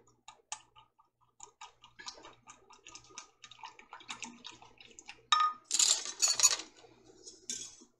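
Whisk beating water into a slurry for spaghetti sauce, a run of quick, light metallic clinks and taps against a bowl, close and fairly quiet, growing busier and splashier toward the end.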